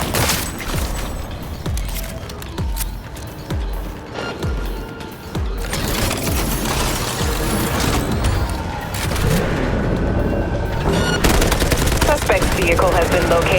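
Heavy gunfire in the video game Cyberpunk 2077, including shotgun blasts, in sharp repeated bangs and dense volleys amid a chaotic fight, with voices underneath.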